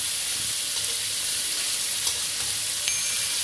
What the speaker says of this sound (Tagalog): I-fry muna natin guys yung meat